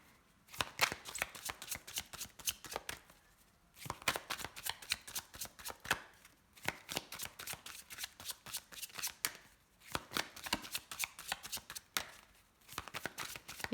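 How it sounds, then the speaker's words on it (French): Oracle cards being shuffled by hand, rapid riffling and flicking bursts repeated in rhythmic runs with short pauses between, close and clear with no talking. "je vais déjà faire une coupe avec mon oracle coup de cœur"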